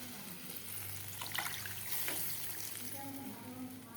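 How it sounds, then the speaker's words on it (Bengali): Water poured from a mug into a pot of thin hilsa fish curry, a soft splashing trickle running for a few seconds over a low kitchen hum. "এখন আমি জলটা দিয়ে দেবো পরিমাণ মতো, এই যে মগে করে জল দেবো"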